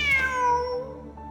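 A cat in the game Genshin Impact gives one drawn-out meow that falls in pitch, heard clearly and close with no voices over it.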